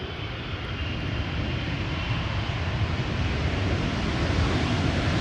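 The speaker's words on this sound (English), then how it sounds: "Emirates Sky Cargo, 777 freighter arriving from Aguadilla." An Emirates SkyCargo Boeing 777 freighter arrives at Amsterdam Schiphol. Its engines make a loud, steady, broad roar that builds slightly as it nears, and no one speaks.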